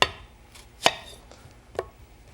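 A sharp knife finely chopping onion on a board makes four distinct, crisp cuts at an uneven pace, close up, with quiet gaps between; no speech.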